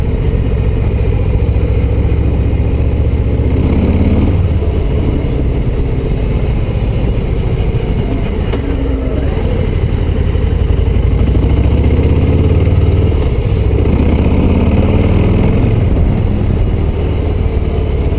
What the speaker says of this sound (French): Ah, c'est du plaisir ce moteur là.